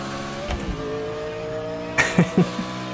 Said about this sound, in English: What a noise that Judd BMW makes